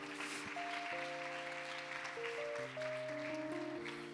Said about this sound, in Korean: 우리 이분들 따뜻하게 환영의 박수 하겠습니다.